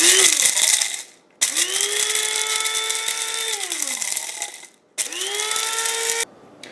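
Small coffee grinder pulsing dried jalapeños into powder: three sharp motor bursts, each spinning up to a high whine and winding down, separated by brief silences.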